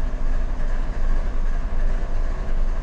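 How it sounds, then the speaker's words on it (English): A freight train rolls past at close range, heavy and loud. Its rumble and wheel noise hold steady throughout, with no pauses and no voices. "That's an interesting train."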